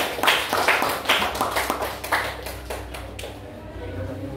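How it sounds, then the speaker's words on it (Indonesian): A classroom group claps hands together, a burst of close, sharp applause that thins out and fades after a few seconds. "Oke, kasih tepuk tangan untuk kita semua"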